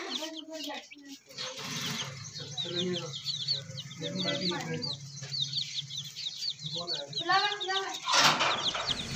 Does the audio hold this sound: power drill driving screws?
no